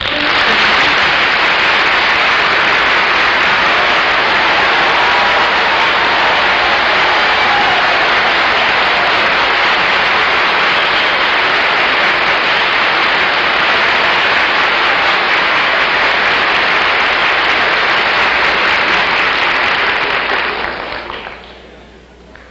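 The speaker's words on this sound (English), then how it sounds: "thank you very much for your wonderful applause" A studio audience at the opening of the 1950s TV panel show "I've Got a Secret" gives loud, sustained applause that fills the whole stretch before fading out at the end.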